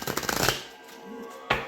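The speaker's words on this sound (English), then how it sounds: "I'm going to shuffle the tarot really good" A deck of tarot cards is shuffled by hand with a rapid flutter of riffling cards, then a pause and another brisk burst, close and crisp.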